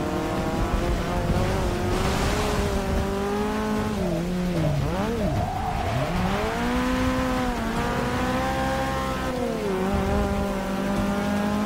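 Race car engine in Forza 6 driven with a manual gearbox, revving loudly and steadily with rising and falling pitch as gears shift, a sustained up-close engine tone throughout with no talk.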